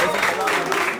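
Brief burst of audience applause at a face-to-face smash-or-pass show in Congo-Brazzaville, steady clapping filling the whole moment with voices mixed in.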